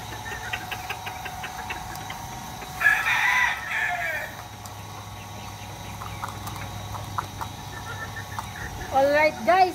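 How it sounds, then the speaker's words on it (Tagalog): A rooster in a grassy backyard crows twice, a drawn-out call near the start and another at the end, loud and close, with faint clucking from hens in between. "Nagtatawag siya ng girl si Machong Guapito."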